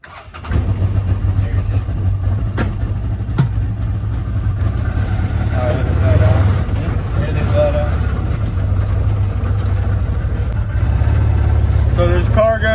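A UTV fitted with a Kemimoto cargo enclosure starts up and drives on a road, its low engine droning steadily nearby, with a few clicks and rattles and brief voices over the engine.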